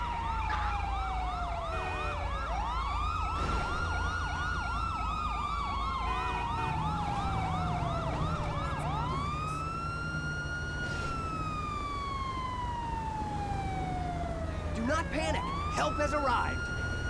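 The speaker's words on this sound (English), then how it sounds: "An ambulance is en route." A wailing ambulance siren in the video game GTA V sweeps up and down continuously, loud and close, with a rapid yelp pattern mixed in at times.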